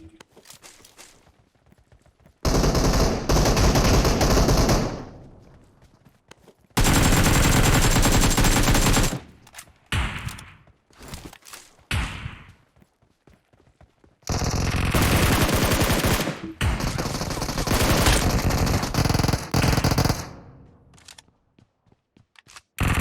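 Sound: gunfire from an AK rifle in PUBG Mobile video game

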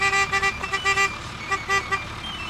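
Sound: truck horns calling cows to troughs

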